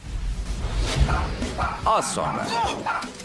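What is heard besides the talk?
dog barking and biting a man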